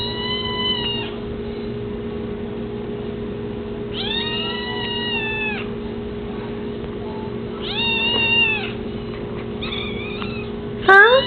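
A Siamese cat meowing near and clear, with four drawn-out wavering meows spaced a few seconds apart over a steady low hum, then a brief rustle at the end.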